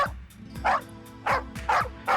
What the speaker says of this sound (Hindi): सर ये मुझे देखकर फिर से भौंक रही है